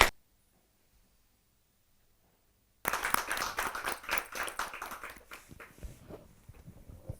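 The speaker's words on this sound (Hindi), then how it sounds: "जोरदार ताली के साथ स्वागत करें" An audience at a Hindi poetry gathering breaks into clapping after a few seconds of near silence, a burst of close, lively hand claps that gradually thins and fades out.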